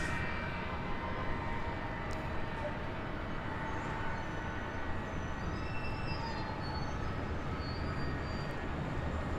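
An airliner takes off from runway 24 left at LAX, a steady, broad jet roar heard from a distance, with faint high whining tones drifting over the continuous rumble.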